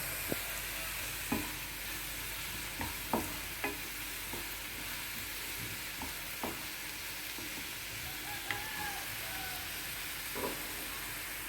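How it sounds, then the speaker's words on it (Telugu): Chicken liver marinated in ginger-garlic paste fries in a pan with a steady soft sizzle. Occasional stirring knocks sound close by, spaced every second or two, and no one speaks. "ఇట్లా మధ్య మధ్యలో తిప్పుకుంటే వేయించండి"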